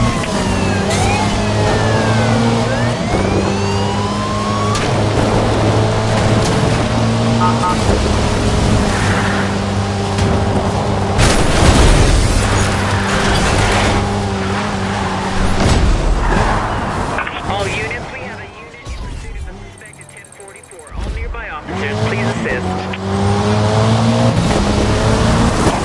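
Racing car chased by police in Need for Speed Rivals, engine revving and roaring loudly through gear shifts, whooshing past with tire and road noise, while radio voices talk over the chase.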